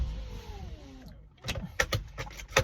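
Power windows on a 1999 Volvo S70 whir upward in a steady electric motor drone for about a second, then stop with soft clunks, followed by louder clicks and thumps from inside the car.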